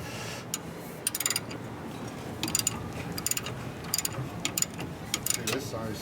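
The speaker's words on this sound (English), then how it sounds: "I brought out the big ratchet." A big ratchet works a Motion Pro socket on the rear axle of a 2017 Harley-Davidson M8 Touring motorcycle. It gives close, crisp clicking in short bursts of several quick clicks, with pauses between strokes.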